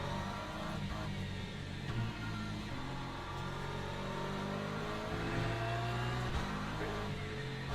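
Race car engine in Le Mans Ultimate revving continuously, the note climbing and dropping through gear changes, loud and close throughout, with other cars faintly around it.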